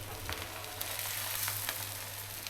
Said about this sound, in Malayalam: തേച്ച് വെച്ച മത്തി വറുത്ത് പോരുക